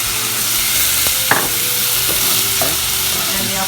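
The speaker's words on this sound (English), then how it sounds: "let's pop in the liquid. That's the vinegar, the balsamic," Vinegar, balsamic and apple cider vinegar hit a hot pan while making homemade ketchup, giving a dense continuous sizzle with a few scraping stirs of a utensil, close and loud, no talking.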